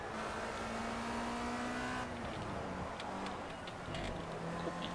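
A race car engine in the racing video game Project CARS revs steadily in a sustained whine, drops off as it slows for a chicane in second gear, then climbs again under acceleration, loud and continuous.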